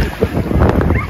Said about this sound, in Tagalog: Sobrang lakas na ng hangin ngayon.